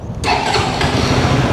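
A 2023 WMOTO RT3S maxi scooter engine cranks and catches after a short quiet moment, then settles into a steady, close mid-pitched running hum.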